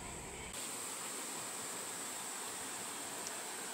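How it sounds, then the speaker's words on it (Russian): A mountain waterfall in North Korea roars as a steady, broad rush of falling water, constant and fairly close, with no voices and no change in level. "смотреть водопад."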